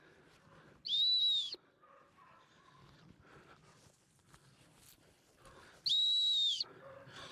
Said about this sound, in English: Introduce that sit whistle, heel.